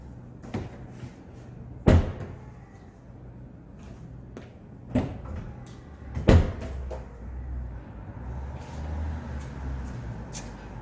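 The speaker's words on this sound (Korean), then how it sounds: "다섯 번을 이용하시면 이렇게 스텝이 정상적으로 작동이 됩니다." Powered side step on a 4th-gen Kia Carnival minivan operating: a few sharp mechanical clunks and thuds from the step and door, spaced seconds apart over a low steady hum, with no talking.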